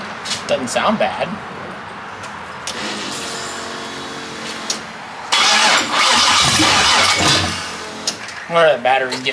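An LS-swapped Chevy S10 engine cranks with a weak battery, grinding starter bursts that stop and restart, then catches and roars to life with a loud burst of revving; people talk and cheer over it.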